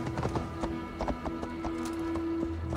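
Horse hooves in the video game Assassin's Creed Valhalla clop in a quick, uneven rhythm over a steady hum, moderately close, with no talking.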